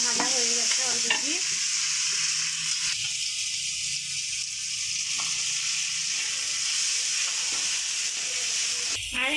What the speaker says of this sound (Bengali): আর এগুলো যে একটু হলদি, লবণ, আদা, রসুন বাটা, জিরে বাটা দিয়ে কষিয়ে নিচ্ছি।